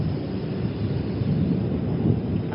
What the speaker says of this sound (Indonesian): Takut petir.